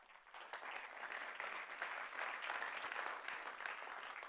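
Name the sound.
audience applause for award winners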